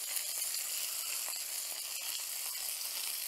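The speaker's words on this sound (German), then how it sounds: "Ich gebe die Kräuter dazu. Die geben jetzt ihr Aroma richtig schön in das Öl ab." Herbs sizzling in hot oil in a pan, a steady, close crackling hiss with fine pops throughout, no talking.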